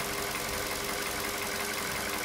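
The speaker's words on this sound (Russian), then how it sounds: "Работа двигателя на холостом ходу." A VW CFNA car engine for a 2011 Jetta idles steadily with a continuous low rumble and a faint hiss, even and unchanging throughout.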